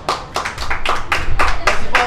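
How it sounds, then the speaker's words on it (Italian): A few people clap at a birthday party in a rough, uneven rhythm of about eight bursts over two seconds. The clapping is close and fairly loud, with no talking over it. "Un applauso a Bodyguard!"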